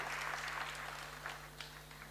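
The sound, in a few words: audience applause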